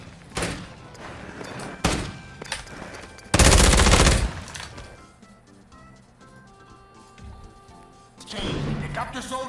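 Gunfire in a first-person shooter comes as scattered shots and one loud dense burst, with game sounds and a voice talking between them.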